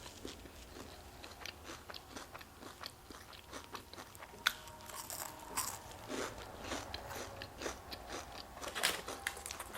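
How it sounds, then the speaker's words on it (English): Crunchy Dairy Queen onion rings are chewed up close, with repeated loud crisp bites and crunches coming in an uneven rhythm and no talking. "I don't know about onion rings that crunch like that."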